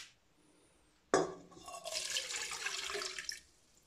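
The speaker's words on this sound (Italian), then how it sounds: "Poi aggiungiamo il latte" Milk pours into a stand mixer bowl over crumbled yeast, a steady liquid stream splashing and gurgling for about two seconds after a sharp start, then stopping.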